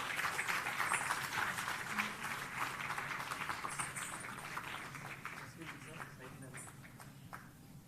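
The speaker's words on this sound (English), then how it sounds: "Can we all please give a round of applause?" Audience at a Bharatanatyam dance debut recital gives a round of applause, a quiet, distant patter of many hands that slowly fades, with speech mixed in.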